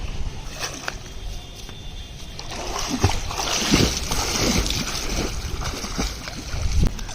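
A swimmer doing the dolphin kick churns the water, making continuous near splashing and sloshing with a few stronger surges toward the middle and end.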